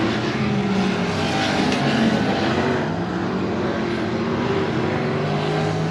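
Touring Outlaw Modified Series race cars roar around Heart O' Texas Speedway during a heat race toward the checkered flag. Loud engine whines sweep up and down as several cars pass in overlapping waves.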